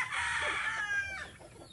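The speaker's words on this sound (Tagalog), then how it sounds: "Yung mga manok natin guys, mga maliliit pa." Chickens in a backyard garden with young chicks among them, one bird giving a loud drawn-out crowing call that trails off into softer clucks nearby, with no voices.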